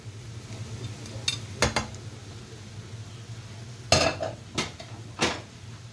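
Fish and spices are stirred in a pan with a utensil, producing a few sharp metallic scrapes and clinks in short clusters over a low steady hum from the stove.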